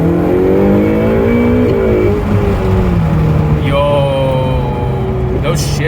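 A Ferrari 488 Pista accelerates hard with a loud, close exhaust roar rising in pitch, broken by sharp gear shifts as the revs drop and climb again.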